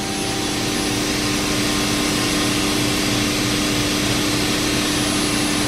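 A Mikron Bostomatic BD32-2G vertical machining center's spindle runs at 1,000 RPM, a steady, unbroken mechanical whine and hum with a fixed tonal pitch over broadband noise, close and constant throughout.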